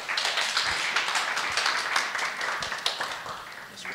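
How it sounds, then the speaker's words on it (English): A church congregation at a Sunday service applauds a speaker coming up, with steady, moderately loud clapping from many hands throughout. "Please give him an applause as he comes up"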